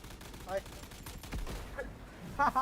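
Bursts of rapid gunfire in the Roblox video game crackle in short volleys, with a voice talking over the shots.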